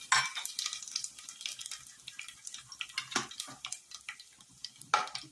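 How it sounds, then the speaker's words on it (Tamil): Bay leaf, cinnamon, cardamom, fennel, cumin, cloves and stone flower crackle and sizzle in hot oil for brinji rice, a soft continuous frying hiss with scattered pops and light utensil scrapes, close but fairly quiet. "எண்ணெய் நல்லா சூடானதுக்கு அப்புறமா பிரிஞ்சி இலை, பட்டை, ஏலக்காய், சோம்பு, சீரகம், கிராம்பு, கடற்பாசி இதெல்லாம் போட்டு நல்லா பொரிய விட்டுக்கலாம்."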